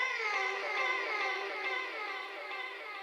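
Screamed vocal noises are smeared into a dense, wavering, high-pitched wail by heavy effects processing. The texture is steady, moderately loud and wordless throughout, with no other sounds.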